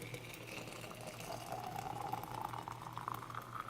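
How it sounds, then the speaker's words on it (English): Almost boiling water is poured from a stovetop pot into a quart jar, a faint, steady gurgling stream whose pitch slowly rises as the jar fills, over a low background hum. "I pour my almost boiling water into it"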